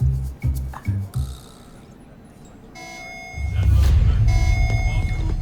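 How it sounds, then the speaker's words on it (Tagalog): After some brief thumping sounds and a quiet gap, a loud, continuous electronic general alarm starts up with steady buzzing tones and pulsing beeps, from the TV series Voltes V: Legacy. "Alarm na naman. General alarm to."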